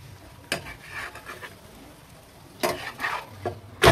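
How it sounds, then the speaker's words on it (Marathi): A besan pancake (dhirde) being turned over in a frying pan, with soft sizzling punctuated by a few sharp scrapes and taps of a spatula against the pan. "आता आपण याला पलटवून घेऊया।"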